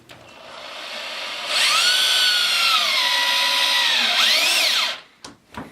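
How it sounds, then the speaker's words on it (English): Close and loud, a power drill whines as it drives screws at an angle through a wooden frame into PVC pipe, its pitch rising and falling under load across two long runs, and then brief clicks follow. "So what we're doing now is putting screws in at an angle so it'll meet the PVC pipe"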